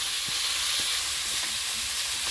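Shrimp frying in hot oil with panch phoron and garlic paste, a dense, steady sizzle filling the whole stretch with faint scattered taps of stirring beneath it, no voices.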